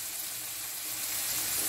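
Sauce sizzling and frying in a pan while omena, small Lake Victoria sardines, are being cooked; a steady, close hiss runs through the whole moment with no talking.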